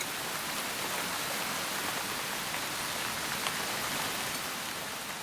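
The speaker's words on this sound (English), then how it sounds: "When the first rain strikes the hot granite, it's driven off as steam." Heavy rain falls on hot granite high on Mount Kinabalu in Borneo. The downpour is loud and steady and keeps a dense, unbroken hiss from start to finish, with no voices.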